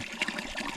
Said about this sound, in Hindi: ये चश्मे का पानी है जी?